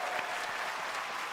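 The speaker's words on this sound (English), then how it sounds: "Applaud." A large audience at the Google I/O 2025 developer keynote claps in a steady, dense wash of applause that fills the whole moment without a break.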